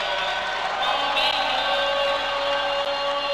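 A volleyball crowd keeps up a steady, dense roar of cheering after a rally, sustained and even throughout with no break.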